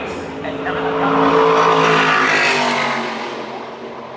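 A NASCAR Craftsman Truck Series race truck roaring past the start-finish line during qualifying at Phoenix, its engine swelling loud and then fading as it passes, with a commentator talking over it.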